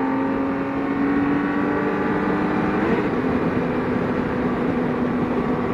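A BMW K1600 touring motorcycle's six-cylinder engine drones steadily and loudly while riding, a smooth sustained hum with wind noise and no pauses.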